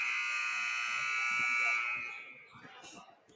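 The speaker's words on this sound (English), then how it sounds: "As the buzzer sounds," A loud, sustained electronic buzzer at a high school boys basketball game blares for about two seconds, then cuts off as crowd noise and chatter carry on.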